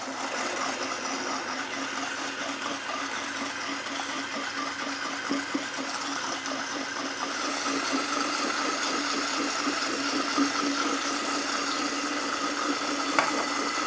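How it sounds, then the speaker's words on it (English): A blender runs steadily with a continuous whirring motor drone while olive oil is drizzled into a citrus vinaigrette, the tone thickening slightly partway through as the mix emulsifies. "Now I'm just gonna get the blender going. And I'm going to drizzle in my olive oil while it's running."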